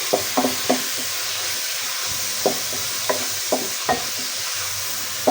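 Spaghetti frying in hot oil in a pan, a soft steady sizzle under scattered sharp clinks and scrapes of a spoon stirring against the metal.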